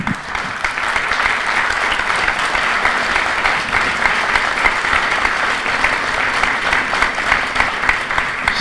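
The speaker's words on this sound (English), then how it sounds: "All right, y'all can applaud all of them." An audience at a county commission candidate forum applauds steadily, a dense, even wash of clapping that holds for the whole stretch without talk.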